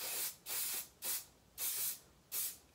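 Five short bursts of aerosol texture hairspray hiss in a steady rhythm, each lasting about a third of a second, close by with quiet gaps between.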